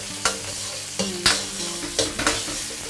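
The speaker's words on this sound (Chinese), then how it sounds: "火呢先开小火，我们先给它爆香一下哈" Crushed ginger, scallion, garlic, dried chili pieces and a Sichuan peppercorn sizzle steadily in oil and lard in a wok over low heat, with a spatula stirring and clacking against the pan at regular intervals, close up.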